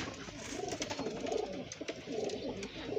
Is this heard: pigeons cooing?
yes